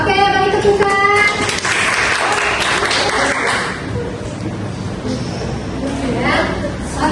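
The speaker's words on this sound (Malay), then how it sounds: "Oke, bagi tepukan." Classroom applause from students after a lesson question, a dense patter of many small hands clapping with chatter and children's voices mixed in, steady for several seconds before breaking into murmuring.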